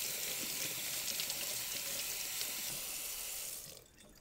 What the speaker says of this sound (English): use some just plain old tap water and make sure that you get your entire arm rinsed off